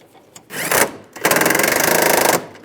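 A power ratchet or impact tool tightening a bolt while replacing the heater core on a 2007-2013 Chevy Silverado, heard as a short rapid burst followed by a longer, steady chattering run, fairly close.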